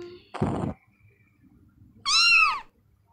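A cat meows once, bright and rising then falling, in the mobile game Sakura School Simulator. A short noisy burst comes first, then a quiet pause before the meow.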